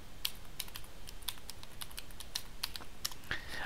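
Someone types a password on a computer keyboard: about a dozen sharp, light keystrokes tapped quickly and irregularly at close range in a quiet room.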